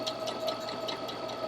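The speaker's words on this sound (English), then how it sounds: "I'm going to sew through 8 layers of denim, and the machine is going to sew through that just very smoothly" A Baby Lock Presto II sewing and quilting machine stitching through eight layers of denim, a steady, smooth mechanical whir with a fast even rhythm, moderately loud and heard alone.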